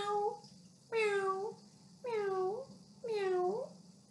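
A voice imitates a cat in a children's song about a giant's castle, giving three drawn-out, sliding meows spaced about a second apart, clear and close over a faint low hum.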